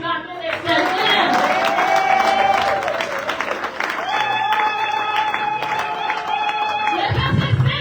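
A church congregation at a mothers' convention applauds and cheers in praise of God, a steady wash of clapping and voices sustained for several seconds, with a sung or intoned tone carrying over the crowd.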